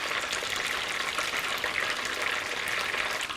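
Chicken wings deep-frying in hot oil for Korean fried chicken, a steady, even crackling sizzle that holds at a moderate level without pause.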